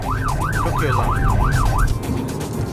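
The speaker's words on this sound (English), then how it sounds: "They like to chase after them, with sirens blaring and lights flashing." A police siren wails in a rapid rising-and-falling cycle over traffic noise, then cuts off, leaving the engine rumble.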